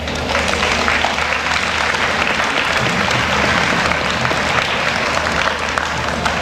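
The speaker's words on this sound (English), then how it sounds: "Give your parents a round of applause." An awards-ceremony audience applauds parents with steady, dense clapping filling the room throughout, loud and continuous with a faint crowd murmur underneath.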